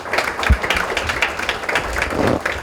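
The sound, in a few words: audience applause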